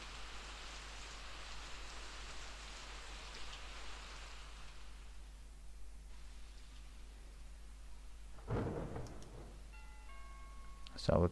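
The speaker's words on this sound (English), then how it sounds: "and then we can hear the doorbell" A doorbell chimes in the AE Mysteries Mirror Man video game: a short run of bright tones near the end, after a long stretch of steady rain-like hiss.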